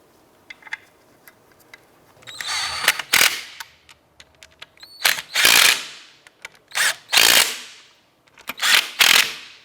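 Bolts coated in blue Loctite are snugged down on a radiator cooling fan of a 2004-2012 Chevy Colorado, with repeated loud bursts of a power tool separated by short pauses.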